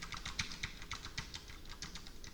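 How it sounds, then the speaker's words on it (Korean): Rapid, uneven clicking of computer keyboard keys being hammered, mostly the four arrow keys, with close, crisp keystrokes in quick succession. "이 상황에서 키보드를 막 누른다"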